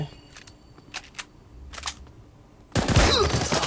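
Shotgun blasts in the shooting video game Bullet Angel: Xshot, a sudden loud burst of gunfire erupting near the end after faint clicks and quiet game sounds.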